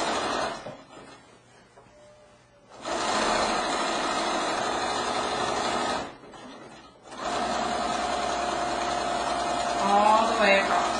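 A sewing machine runs a zigzag seam across a pillowcase in two long, steady bursts of rapid stitching, with a short pause between them and quiet handling noise before and after.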